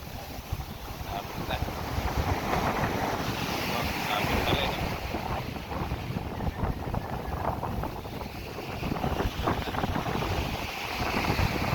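Choppy water slaps and splashes against moored boat hulls amid gusting wind that buffets the microphone, a loud, continuous churn with irregular surges.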